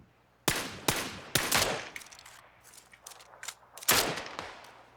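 Gunfire in the battle royale game PUBG Battlegrounds: several loud, sharp shots in short bursts, with fainter clicks and rustling between them and no talk.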